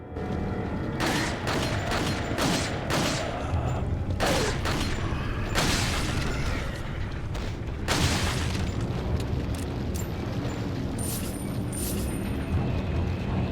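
Gunfire and booms in Resident Evil 4 HD, a dense run of loud shots and impacts across the whole stretch with mechanical clanks mixed in, no talk over it.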